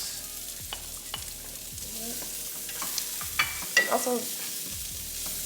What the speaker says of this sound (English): now that the vegetables are a little bit more sauteed, I'm gonna go ahead and add my